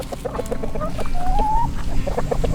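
Chickens cluck repeatedly nearby in a busy barnyard, with one drawn-out call rising above a constant low rumble.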